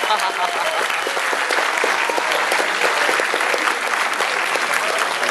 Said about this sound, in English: That's a good close. Alright, everybody, cheer for Dennis.